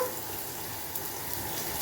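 Onion sizzles in hot oil as a steady, fairly faint hiss with no distinct pops or voices.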